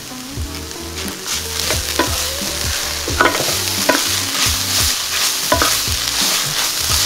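Cilantro stirred in a hot frying pan for vegan Mexican-style eggs, with a steady loud sizzle and repeated scraping, clacking stir strokes throughout, no talking.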